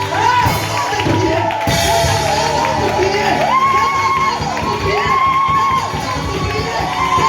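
A church congregation in Bingerville cheers and acclaims loudly during a worship service, a dense continuous crowd roar with shouts and whoops rising above it throughout.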